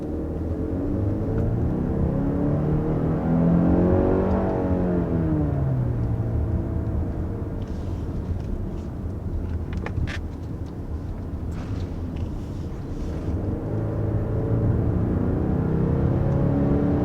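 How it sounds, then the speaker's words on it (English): A 2021 Genesis GV80 Prestige SUV with the 2.5 four-cylinder engine accelerates, heard from inside as a steady engine drone whose pitch climbs and drops through gear changes beneath road rumble. "accelerating up with this Genesis GV80. This is the 4-cylinder model."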